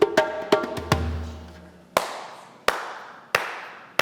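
Sharp, isolated hand claps ring out one at a time, with the first few close together and the rest spaced about a second apart. Each clap leaves a short decaying tail over a faint background, with no speech.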